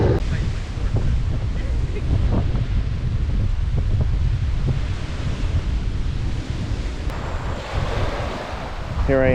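Ocean surf at Smathers Beach in Key West, with waves washing in over steady wind noise buffeting the microphone, a fairly loud continuous roar with softer crashes.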